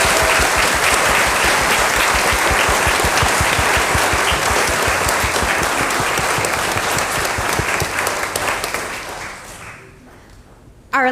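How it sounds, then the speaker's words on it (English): A large audience gives sustained applause to performers at a mental health benefit concert, loud dense clapping that continues for several seconds before fading out to near quiet. "giant round of applause"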